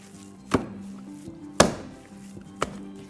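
Minced meat for Turkish kebab is kneaded and slapped hard by hand: three sharp, close slaps land roughly a second apart over a low, steady background hum.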